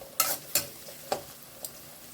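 Prawns frying in a pan during a home thokku preparation, heard as a few sharp sizzling spatters and stirring scrapes spaced over a couple of seconds against a quiet background.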